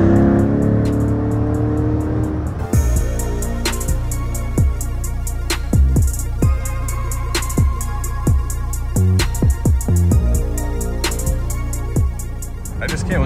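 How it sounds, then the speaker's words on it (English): Mid-engine C8 Z51 Corvette in track mode running nearby with a smooth, steady low engine note, punctuated by sharp clicks and knocks inside the cabin, while people talk over it. "Oh, I love just hearing a mid-engine car."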